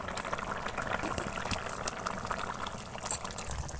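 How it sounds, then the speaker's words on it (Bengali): Bengali fish curry gravy with bottle gourd and potatoes boils vigorously in a pot, giving close, dense, continuous bubbling and gurgling with no talking. "ঝোল পুরো একদম টকবক করে ফুটছে।"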